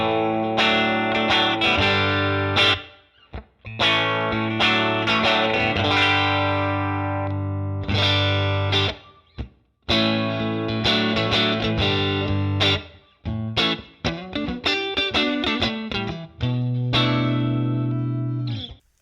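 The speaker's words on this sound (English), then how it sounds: "So here's my normal channel clean sound." A Fender Telecaster plays clean through a Helix modelled on a 1953 Fender 5C3 Tweed amp, with strummed chords and single-note phrases in a loud, ringing passage that has short breaks between lines and no talking.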